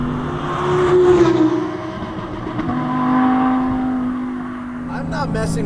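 A 2020 Audi R8 accelerates on the road, its engine swelling and easing in two broad surges as the driver works the throttle, heard from inside the car beneath steady talking.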